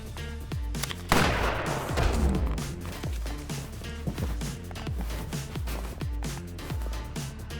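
Gunfire in the turn-based brawler Fights in Tight Spaces, a loud burst of rapid, repeated shots with crashing impacts, continuing in a rhythmic volley over a pulsing game soundtrack.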